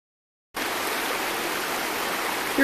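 Mill Prong Creek in Shenandoah National Park runs beside a footbridge near a rustic camp, giving a steady close rushing hiss of flowing water after a short silence, rising slightly at the end.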